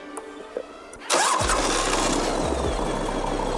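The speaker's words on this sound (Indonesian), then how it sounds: "sekarang kita cobain gimana suara mesin 1800 cc Indian ini" After a few faint clicks, an 1800 cc Indian motorcycle engine with a stock but hollowed-out exhaust cranks and fires up, then settles into a loud, deep, lumpy idle close by.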